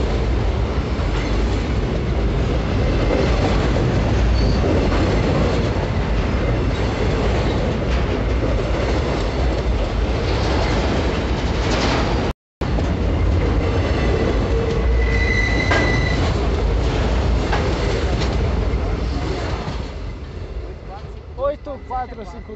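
A huge Rumo freight train passes through Mairinque, São Paulo, with a loud continuous rumble of rolling wagons, wheel clatter and squeals close by, under occasional voices, fading slightly at the end.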